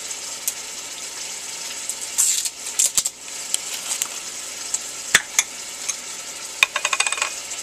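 Tri tip and onions frying with sauce on a stovetop, giving a steady bright sizzle throughout with scattered sharp clinks and scrapes of stirring, close and fairly loud.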